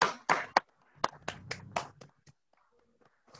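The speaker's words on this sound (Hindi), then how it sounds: "मैं चाहूंगा दुर्गा मैम के लिए भी एक शानदार जोरदार ताली होना चाहिए" A handful of sharp, separate hand claps ring out in a quiet room at a sales team achievers' recognition event. They come in an uneven burst and then stop, leaving near silence.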